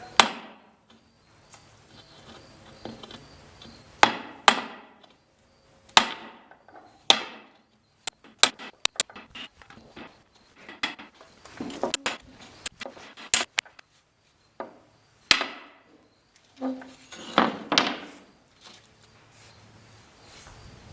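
A strip of Hardy-Board fiber cement board being cut up close, heard as an irregular run of sharp snaps, clicks and short scraping strokes with brief quiet gaps between them; no one speaks.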